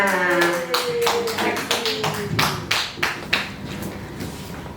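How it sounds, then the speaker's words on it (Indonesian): A small group claps irregularly in a school training session on positive culture, uneven bursts rather than a full ovation, with some voices underneath. "ya tepuk tangan untuk kita semuanya"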